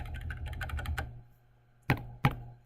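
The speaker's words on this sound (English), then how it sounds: "I think I can just backspace and edit." A computer keyboard being typed on, a quick run of clicking keystrokes followed by a pause and two separate sharp key presses, close and fairly quiet with no talking.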